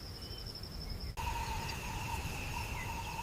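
Insects calling outdoors at night in steady, continuous high-pitched chirring tones, faint and even, with a second insect tone joining partway through over a soft background hiss.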